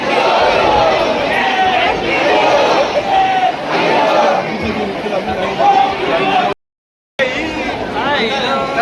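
Large crowd of devotees at the Ekvira temple, a dense roar of chatter and shouting voices close around, continuous apart from a brief cut near the end.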